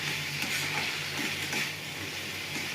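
Spices for a chicken and potato curry frying and being stirred in a pan, a steady close sizzle with soft scraping strokes.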